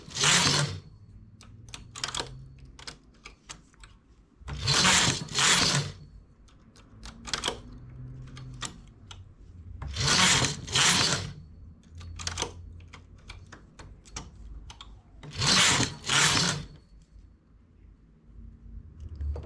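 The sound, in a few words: knitting machine carriage moving across needles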